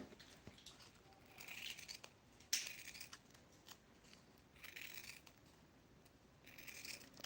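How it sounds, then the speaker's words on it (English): Scissors cut material into small bits for a homemade shoe heel repair, giving a few close, crisp snips with a sharp click partway through over a quiet background. "So you want to first of all try to cut it in bits."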